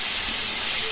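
Bay leaf plus onion, garlic, ginger, chili, tomato, cumin and coriander pastes hit hot oil in a pan for egg curry, giving a steady, loud, close hiss of sizzling for about a second with no voices.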